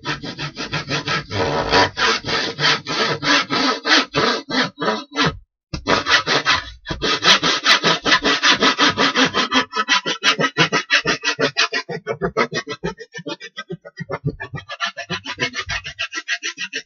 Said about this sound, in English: Very carefully saw off the axis.